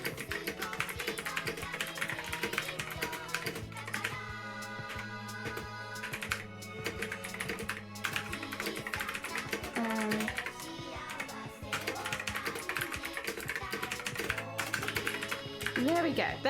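Quick, irregular taps on a computer keyboard come in bursts under background music and a talking voice.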